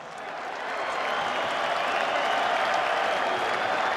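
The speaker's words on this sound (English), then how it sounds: "At this time, please salute them all with your applause." An arena audience at a boxing event applauds steadily, the dense clapping swelling in the first second and then holding a broad, even roar with crowd noise blended in.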